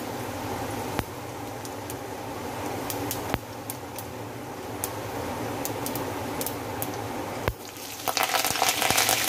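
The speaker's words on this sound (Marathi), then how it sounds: "तेलामध्ये आपण जिरे मोहरी टाकूया, जिरे मोहरी आणि थोडेसे धने त्याच्यामध्ये" Cumin, mustard seeds and coriander seeds fry in hot oil with a steady close sizzle and occasional sharp pops, growing into denser crackling toward the end.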